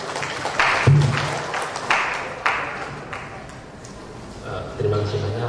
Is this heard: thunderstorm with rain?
no